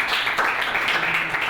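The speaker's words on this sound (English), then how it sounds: "Give it up for Ryan and all of our speakers." An audience after a lecture talk breaks into dense, continuous applause, many hands clapping at once and filling the room, with a voice faintly audible underneath.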